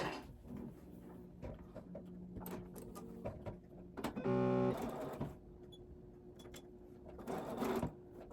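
A sewing machine stitches cube fabric parts together at a precise quarter-inch seam, with a short fast burst of needle hum amid quieter handling and rustling of fabric, close and clear with no talking.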